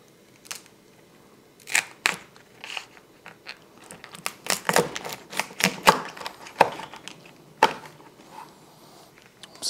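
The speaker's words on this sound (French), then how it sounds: "on va couper notre homard en deux" A knife splits a lobster lengthwise in half, giving sharp cracking crunches of shell and cutting clicks in irregular bursts up close, with no talk.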